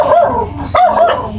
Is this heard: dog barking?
yes